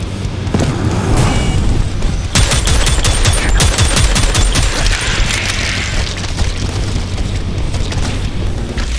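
Loud, rapid gunfire from the weapons in the shooter game Prodeus: dense bursts of sharp shots and booming blasts over a low rumble, continuous for several seconds.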